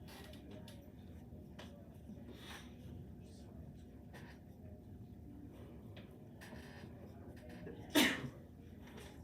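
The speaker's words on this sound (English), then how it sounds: "Bless you. You got the sneezes." A single sharp sneeze bursts out near the end of a quiet precalculus class session, short and loud against a low room hum and faint background murmur.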